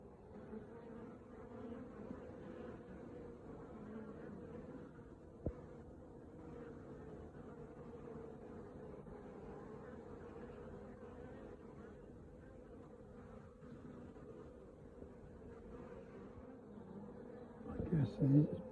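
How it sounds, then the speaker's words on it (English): Honeybees buzz steadily around a hive entrance in an apiary, a soft continuous drone from many insects close by, with a brief louder bump near the end. "I guess these bees are slowly going in."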